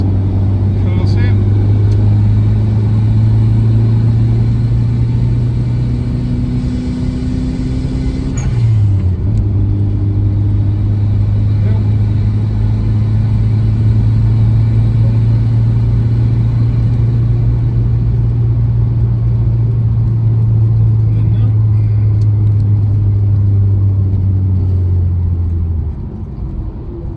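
A 1989 Toyota Celica GT-Four ST185 rally car driving on the road, its engine a loud steady drone heard from inside, with one gear change and a rise in revs midway, then cruising evenly.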